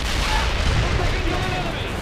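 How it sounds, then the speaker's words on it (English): An anti-tank strike lands in the World in Conflict video game, rolling out as a dense, continuous, loud barrage of booming explosions and rumbling gunfire. "Anti-tank strike is out."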